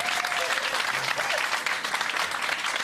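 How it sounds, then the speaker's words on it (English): Audience applause at a jazz concert, offered as a birthday round for a guest, steady dense clapping from a sizable crowd filling the whole moment, close and fairly loud. "Let's give Margaret a round of applause."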